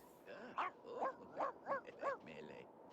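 A dog in The Sims 2 lets out a quick series of about five yappy barks in an even rhythm, clear and close, set against faint game background sound.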